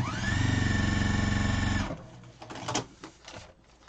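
A sewing machine stitching quilt pieces, running in a loud, even motor whir with rapid needle chatter for about two seconds, then stopping, followed by faint handling of fabric.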